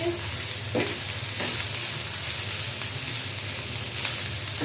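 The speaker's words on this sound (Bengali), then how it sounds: "বন্ধুরা মাছটা ভালো করে ভাজা দিতে হবে" Shrimp frying in a pan, a steady loud sizzle with occasional spatula scrapes and stirs throughout.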